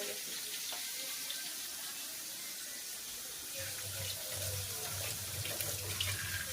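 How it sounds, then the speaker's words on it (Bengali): Water runs steadily from a household tap in a kitchen as hands are washed, a soft continuous splashing hiss with a low hum joining partway through. "হাত ধুয়ে"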